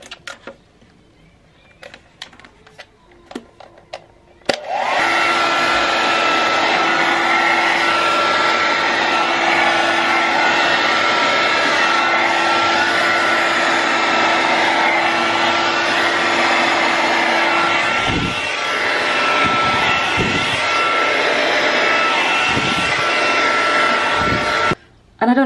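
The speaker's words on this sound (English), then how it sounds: "I don't like these blow dryer" A loud hair dryer blows with a steady whooshing roar for about twenty seconds, cutting out briefly before starting again, after some quiet handling noises.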